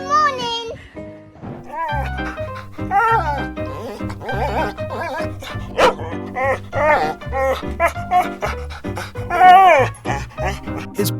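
A dog barks, pants and whines insistently to wake its owner in the morning, a close, loud and nearly unbroken run of high, yelping vocal bursts and breathy panting.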